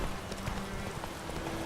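A horse gallops in The Witcher 3 with quick, steady hoofbeats under a dense wash of ambient game noise, brief and moderately quiet.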